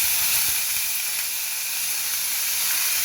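Onion goes into hot oil with bay leaves and a freshly fried homemade five-spice tempering while cooking bottle gourd kofta, giving a steady, even hiss that runs unbroken and fairly loud with no talking.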